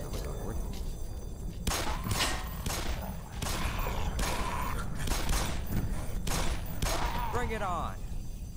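Bursts of gunfire in the video game Black Mesa, several separate volleys of sharp shots spread across the moment, mid-distance, with a brief tonal warble near the end and a voice speaking faintly in between.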